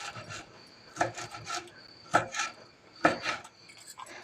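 Knife chopping banana flower into small pieces for dosa batter, a run of irregular dry cutting strokes with a few sharper chops, close and fairly quiet, no talking.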